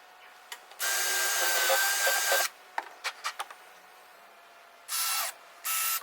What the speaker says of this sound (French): Si je me contente de percer au diamètre du corps de la vis